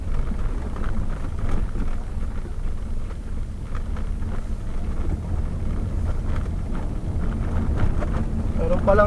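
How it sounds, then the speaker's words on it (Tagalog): Rain falling during a drive around Binangonan, a steady broad wash of noise with wind buffeting and low rumble throughout, fairly loud and continuous. "Ulan pa."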